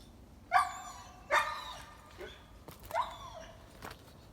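A dog on a rural homestead barks in three or four separate yelping barks spaced about a second apart, moderately near, with a quiet outdoor background.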